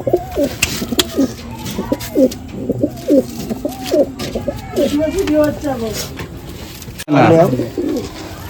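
Madrasi pigeons coo in a steady series of soft, rolling calls close by, with a brief louder flutter near the end, while someone talks over them.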